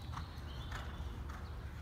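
Hooves of a horse in an intermediate riding lesson around barrels clip-clop in a quick, even rhythm on the arena ground, close and fairly faint, with no one speaking.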